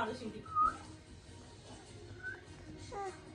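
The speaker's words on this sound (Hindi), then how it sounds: "सीटी" A person whistles a few short, faint high notes at home, widely spaced, over low background noise with other voices and indistinct speech nearby.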